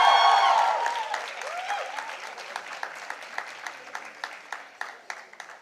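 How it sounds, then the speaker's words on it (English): An audience at a university convocation bursts into loud applause that quickly fades, leaving a few scattered, sharp claps that trail on in an irregular rhythm. "Guys, big round of applause."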